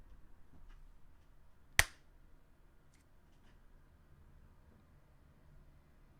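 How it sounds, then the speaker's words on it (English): A single sharp hand clap tested for a livestream, one crisp transient standing alone against a faint steady room hiss, with nothing else following. "Gunner wants a quick clap test. So let's do that real quick."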